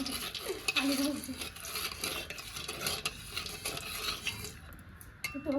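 Potatoes fry in a pan while a utensil stirs them, soft scraping and clinking over a faint sizzle, fairly quiet and close, with occasional sharper metal taps.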